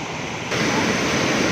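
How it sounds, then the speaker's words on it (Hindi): Water pours onto the wooden paddle wheel of a water-powered flour mill, a pan chaki, in Samahni, giving a steady broadband rush that grows louder after a brief quieter start. "पानी उसमें गिर रहा है और वो उसको घुमा रहा है"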